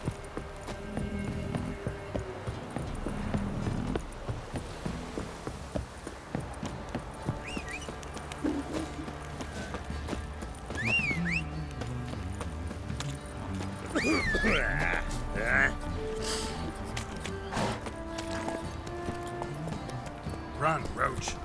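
Roach, the horse in The Witcher 3: Wild Hunt, gallops with quick, fairly soft hoof clip-clops under game music, a voice, and scattered sound effects.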